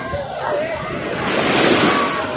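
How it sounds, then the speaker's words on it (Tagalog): Loud surf churning and crashing at a beach with swimmers, with steady wind noise, the roar building toward the end. "Ang lakas ng balod at saka lakas ng hangin guys."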